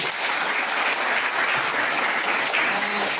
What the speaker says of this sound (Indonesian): Baik, tepuk tangan buat kita semua.